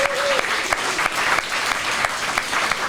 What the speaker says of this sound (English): give our veterans and especially those Gold Star families a big round of applause